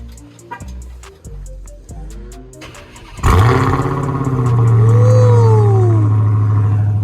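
A Dodge Hellcat widebody cranks and fires up at about three seconds into a loud, steady idle, with a few rising revs layered over the rumble, heard up close with no talking.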